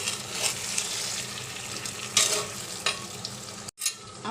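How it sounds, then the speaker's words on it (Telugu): Chicken and onions stirred and frying in a pan, a steady broadband sizzle with scraping stir strokes and a few sharper clinks, close and fairly quiet. "ఆనియన్స్లో చికెన్ వేసుకొని మంచిగా కలుపుకొని మనం ఈ చికెన్ని ఫ్రై అవ్వనివ్వాలి"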